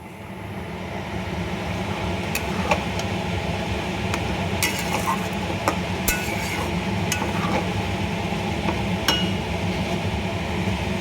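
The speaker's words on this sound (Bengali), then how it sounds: "চিনিটা দিয়ে একটু নাড়াচাড়া করি" A spoon scrapes and stirs sugar through vegetarian khichuri in a pot, a steady close rumble of moving grains with occasional sharp clinks against the metal, loud and continuous without talk.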